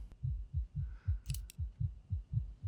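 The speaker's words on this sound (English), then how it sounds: "Why's your heart beating so fast?" A fast, steady heartbeat pulses as a low, regular thump about four times a second, clear and close, with a brief faint clatter partway through and no voices.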